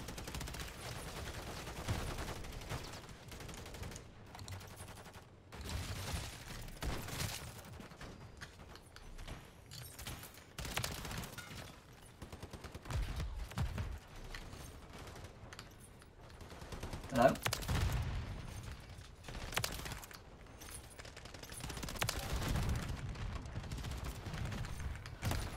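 Repeated bursts of SMG fire crackle through a hectic Call of Duty Hardcore Kill Confirmed match on the small Shipment map. Fast, sustained volleys come and go under ongoing talk.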